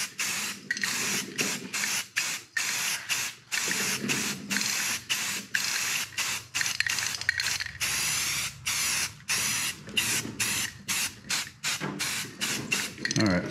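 Bursts of spray hiss from a paint sprayer painting a jon boat, repeated in short on-off pulses with brief gaps, close and fairly loud.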